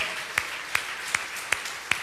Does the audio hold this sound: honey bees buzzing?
no